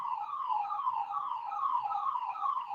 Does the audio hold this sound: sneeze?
no